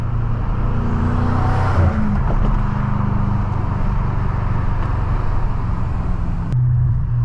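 A BMW F90 M5 drives along with a steady, full engine drone heard from inside the cabin, broken by a quick gear shift near the end.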